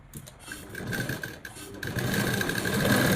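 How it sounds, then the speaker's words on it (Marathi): A sewing machine stitches along the neckline of a blouse, its motor whirring up to a steady, loud, continuous run close by. "आता मी काय करणार आहे, ह्या गळ्याच्या पूर्ण साईडने स्टिच करून घेणार आहे"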